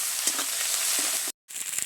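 Ginger-garlic paste frying in a pan makes a steady, close sizzle with light stirring scrapes, cut by a brief gap of silence before the hiss resumes.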